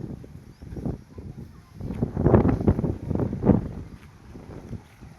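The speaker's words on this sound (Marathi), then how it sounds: "इथं आपली गाडी आता किती वारा सुटला आहे." Strong wind blows outdoors under cloudy, pre-rain skies near a parked vehicle, buffeting the microphone in low rumbling gusts that swell and ease over several seconds, with no voices heard.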